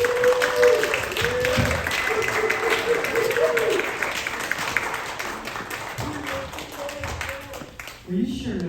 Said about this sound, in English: can we give a huge round of applause to Dr.